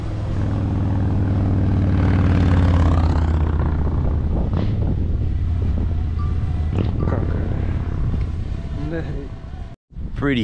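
A propeller airplane makes a low pass, its droning engine loud and close with strong wind buffeting the microphone, then the sound fades as it moves away.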